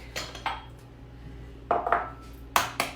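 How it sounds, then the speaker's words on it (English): An egg cracked into a separate bowl, a few sharp close taps and clinks against the bowl in small bursts, with quiet gaps between. "I always crack my egg into a separate bowl"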